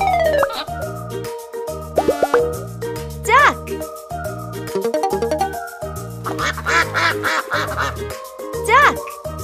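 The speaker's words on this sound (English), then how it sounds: "Duck." A string of quacks from real ducks, loud and close, sounding over a repeating background music track with short gaps between the calls.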